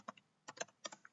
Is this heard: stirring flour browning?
no